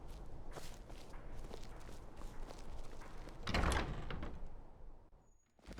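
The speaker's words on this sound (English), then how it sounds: "Come in and shut the door." A door opens in the video game Skyrim, with footsteps and a solid thud of the door moving, followed by a quieter tail as the room settles.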